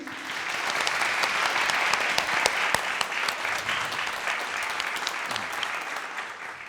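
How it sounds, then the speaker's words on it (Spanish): An audience at a book presentation gives sustained, even applause for a speaker, with many hands clapping in a continuous wash that holds steady for several seconds before easing slightly. "le obsequian un aplauso también para el maestro Antonio"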